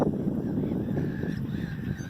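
Harsh honking seagull calls repeating over a noisy outdoor background, fairly close and loud.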